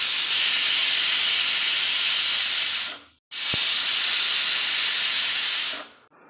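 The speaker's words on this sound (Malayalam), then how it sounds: "ഇപ്പോൾ ഒരു 3 വിസിൽ ഞാൻ അടുപ്പിച്ചിട്ടുണ്ട്" Two loud, sustained bursts of hissing steam from a pressure cooker cooking egg curry, each lasting about three seconds and stopping abruptly, with no talk.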